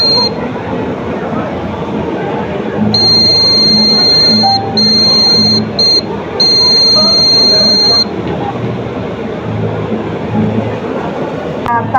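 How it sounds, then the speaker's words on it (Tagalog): A high electronic buzzer on an ultrasonic sensor circuit beeps in several long tones with short gaps, sounding over a steady low rumble of background noise. "tutunog din yung buzzer"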